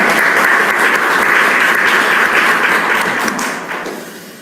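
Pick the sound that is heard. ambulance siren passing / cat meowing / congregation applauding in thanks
congregation applauding in thanks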